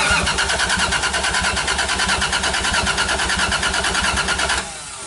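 A Lexus IS300 car engine with a 1JZ-GTE cranks loudly and steadily with a rapid rhythmic churning for several seconds, then cuts off abruptly, leaving a quieter hum.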